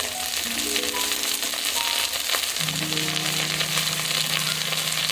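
Green chillies fry in hot oil in a pan, giving a loud, continuous crackling sizzle that holds steady throughout, with faint tonal hum in the background.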